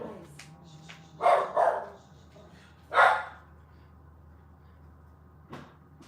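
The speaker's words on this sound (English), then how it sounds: "Closing off things so that I don't have to listen to the doggies bark" Dogs barking outside a house, heard through a window: a few short muffled bursts, a double bark then a single one, fairly faint against quiet room noise.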